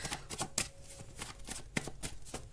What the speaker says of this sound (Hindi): चलो और एक बार शफल करती हूँ।